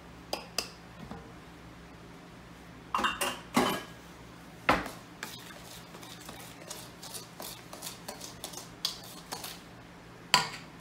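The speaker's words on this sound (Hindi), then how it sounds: "अब मेरे को शक्कर डालना है अंदर और मिक्स करना है।" Sugar is mixed into banana muffin batter in a bowl, heard as irregular close clinks, taps and scrapes of a utensil against the bowl, with a few louder knocks and quiet pauses between.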